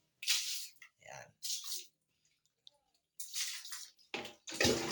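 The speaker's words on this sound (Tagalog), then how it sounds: "Kaya buhusan ko ng tubig." Water poured onto a bathroom floor drain being replaced, giving several loud, close splashing bursts with short quiet gaps between them and no talking.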